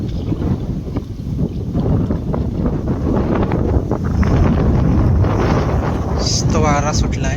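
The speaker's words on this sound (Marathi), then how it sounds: "तो वारा सुटला आहे" Wind gusts buffet a small river fishing boat used for catching crabs, a steady loud rumble pressing on the microphone throughout, with water and hull noise mixed in and a brief high whine near the end.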